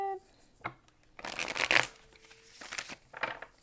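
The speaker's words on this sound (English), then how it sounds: "All right, one more shuffle." Tarot cards are shuffled by hand at close range, giving a soft riffling and a flurry of papery slaps that build to a dense burst and then ease into lighter taps, with a dog whining faintly in the background.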